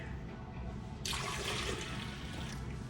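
Water rushes in suddenly and keeps streaming steadily into a cup, a close, full pour.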